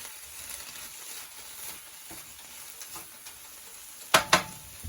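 A spatula works sausage and white onions around a hot frying pan over a soft ongoing sizzle, with light scraping strokes and two sharp metallic clinks near the end.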